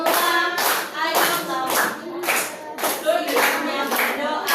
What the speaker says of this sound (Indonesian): tepuk jari 4, tepuk jari 5, berbunyi semua